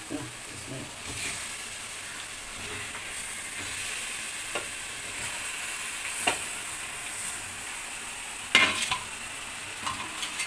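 Chicken fries in masala for a Kerala chicken roast, with a steady, soft sizzle and hiss, broken by a few scraping stirs, fairly quiet and close.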